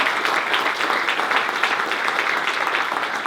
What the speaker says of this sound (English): So let's give Alaska Geographic a round of applause.